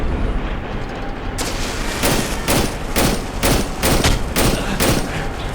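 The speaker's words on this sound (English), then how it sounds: "I'm gonna put a bunch of bullets right into your cranium." Rapid bursts of gunfire from a weapon in the horror video game Cry of Fear, loud and close, firing in a steady repeated rhythm of sharp shots after a brief lull.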